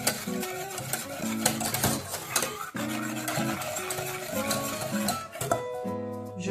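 A spoon works through chocolate banana tart batter in a bowl, giving a steady scraping stir with light clinks against the bowl. Background music plays throughout.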